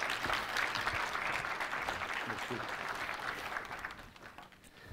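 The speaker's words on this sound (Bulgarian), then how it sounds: "моля ви за силни аплодисменти за Венислав Йотов" An audience at a business talk breaks into sustained applause for a speaker, a dense steady wash of many hands clapping that stays fairly even and then tapers slightly toward the end.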